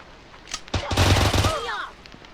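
A rapid burst of gunfire in the video game Pigface, a close, loud rattle of shots lasting about a second as the weapon fires at the ground, with faint voice nearby.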